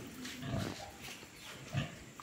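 About sixty-day-old weaned piglets on a farm give low, soft grunts in two or three short bursts over a steady barn background.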